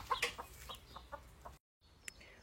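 Chickens clucking near a hen house on a small home property, several quick clucks and calls close by, briefly cut off then resuming faintly.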